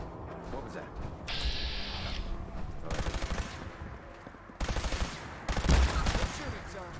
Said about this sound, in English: Shooting, sir.